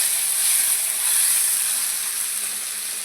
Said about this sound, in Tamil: கொஞ்சம் புதினா பழம், கொத்தமல்லி பழம், வெங்காயம் போட்டுக்கலாம். நல்லா வணக்கி விட்டுக்கலாம்.